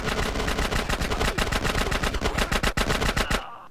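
Loud, rapid automatic gunfire from the video game GTA San Andreas rattles in a steady burst for over three seconds, then stops abruptly, with no talking over it.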